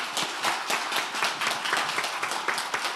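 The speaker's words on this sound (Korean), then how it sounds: "그분들 그런 어떤 새로운 전진을 만들어내는 선견지명을 보이신 분들에게 한 박수를 한번 주시면 좋겠습니다." Audience clapping at a talk event, a dense, steady patter of many hands close by with no voices over it.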